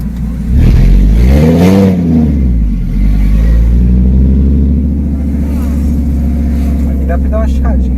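A Fiat Marea HLX with no exhaust, engine revving loudly. The pitch sweeps up and back down once, then settles into a harsh, close, sustained drone, with a brief voice near the end.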